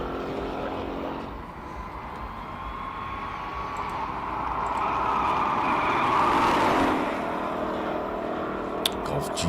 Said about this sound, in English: Golf GTI.